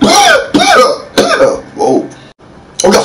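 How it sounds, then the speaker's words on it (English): A series of harsh, close coughs and throat-clearing bursts, four or five in quick succession with short pauses between them. "I got a cough"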